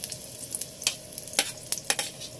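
Sliced onion sizzles in hot cooking oil in a pan, a steady bright crackle broken by sharp bursts as it is stirred and tossed, close and with no voices.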